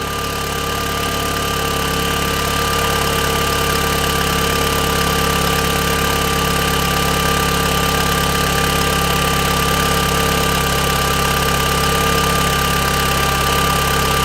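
An Audi TT Mark 1 engine idles smoothly and continuously, a constant low rumble with a faint mechanical hum, close by and uninterrupted with no voices.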